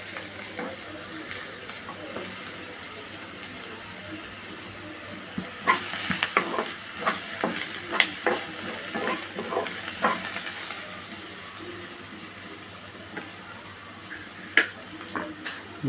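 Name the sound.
stir-frying bitter gourd in a pan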